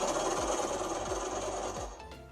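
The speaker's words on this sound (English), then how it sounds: "Now we're going to put the scarf under the needle, and on the right hand edge we're going to sew down" A sewing machine stitches down the edge of a scarf, its motor whirring steadily with a rhythmic thump of the needle, close and alone before it slows to a stop.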